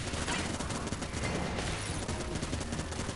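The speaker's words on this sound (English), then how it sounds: "The Vulcan cannon, I'm pretty sure, was nicked off of that, off Gatling Gull" Rapid, continuous Vulcan cannon fire in a robot combat video game, a dense unbroken roar of gunfire lasting about three seconds with no pauses, loud and close.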